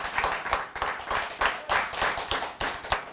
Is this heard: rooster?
no